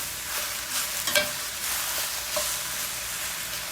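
Brussels sprouts sear and caramelize in a hot pan with a continuous close sizzle, broken by a few brief scrapes or pops from stirring and no talk.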